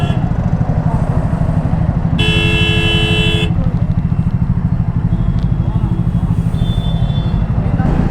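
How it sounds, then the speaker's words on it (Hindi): A vehicle horn blares in one sustained blast amid a traffic jam, over the steady throb of a motorcycle engine idling close by, with road noise around. "भाई कुछ लोग ना इतना हॉर्न मारते हैं, इतना हॉर्न"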